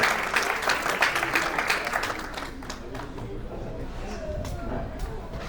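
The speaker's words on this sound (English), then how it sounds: "Let's give him a very warm welcome, round of applause." An audience at an ISKCON temple festival in Naperville applauds to welcome a speaker, dense clapping that starts strong and gradually fades over several seconds, with light crowd murmur beneath.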